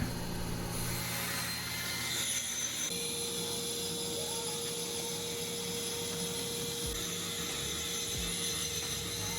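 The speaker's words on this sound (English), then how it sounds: "I took it to the bandsaw next. I set the fence to cut the piece in half, or close to it." A bandsaw cutting a wooden board in half against its fence, a loud steady whine and hum running the whole time, with the blade's tone shifting as the cut goes on.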